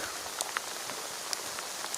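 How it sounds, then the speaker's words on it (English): Rain falls steadily on a tent during a rain day, a soft continuous patter with scattered sharper drop ticks, no voices. "And now we're having a rain day."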